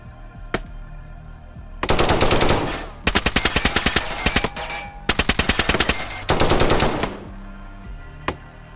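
Rapid automatic gunfire in DayZ aimed through a wall, in several loud sustained bursts of evenly spaced shots with short pauses between, plus a couple of isolated single shots at the start and end.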